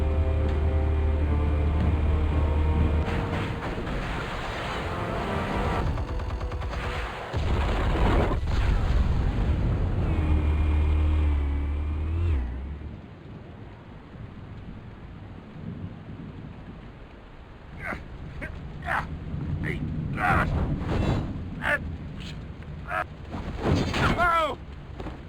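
Explosives detonate in Batman: The Telltale Series, with heavy rumbling booms and thunderous blasts filling the first half, then fading into a quieter stretch of crackling debris and sharp scattered impacts.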